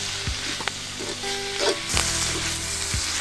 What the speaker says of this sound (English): Now she adds the kangkun leaves and mixes it well.